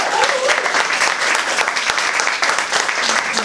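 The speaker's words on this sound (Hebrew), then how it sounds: "מחיאות הכפיים מדברות בעד עצמן" Loud, dense applause from a crowd at a course's end-of-year thank-you ceremony, a continuous wash of many hands clapping close by for several seconds.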